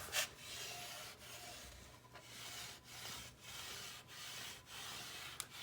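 Hand rubbing and working casing paint off a wooden picture frame, a steady scratchy friction with rhythmic strokes and brief pauses, close and fairly quiet, no talking.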